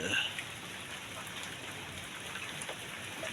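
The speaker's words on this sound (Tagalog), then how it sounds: "biglang umulan ngayon dito sa Sorsogon Bulan Terminal" Sudden steady rain hisses down at a bus terminal in Sorsogon, a dense even wash of drops falling around the listener with no break.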